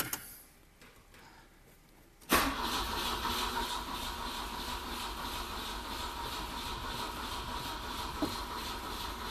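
A Volvo Amazon Kombi engine cranks without firing, and not even a cough comes from it. After a quiet start, a loud, steady, rhythmic churning of the starter runs on without stopping.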